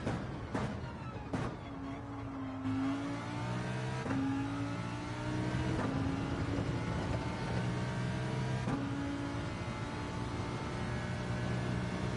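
An IMSA Lamborghini Super Trofeo race car in Gran Turismo 7 revs hard, its engine pitch climbing and then dropping sharply at each of several gear shifts, loud and close throughout.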